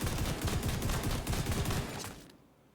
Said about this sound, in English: And then I'm going to show you what the shotgun does.